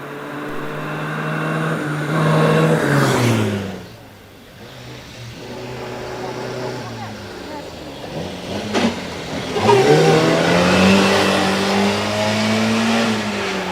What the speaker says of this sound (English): Climbing now, I think, is Sam Ely in the Singer Junior.